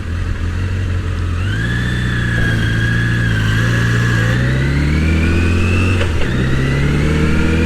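Motorcycle engine of a Voyager 1200 while riding, heard as a steady, loud, close hum whose pitch rises and falls with the throttle, alone and without speech.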